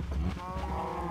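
Lowing cattle in a Minecraft-style game, Saladcraft, a short drawn-out animal bellow with a harmonic tone, loud and close, standing alone without talk.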